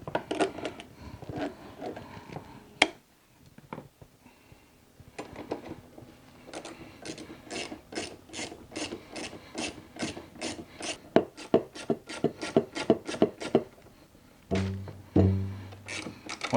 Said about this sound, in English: I'm just going to tighten the slack out of this cable.